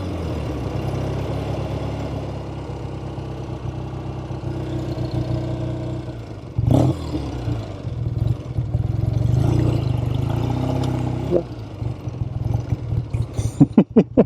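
Engine of a 1970 Triumph TR6 while driving, a continuous mid-pitched drone that swells and dips with throttle changes and a gear-shift-like surge partway through, ending in a few sharp clicks or knocks.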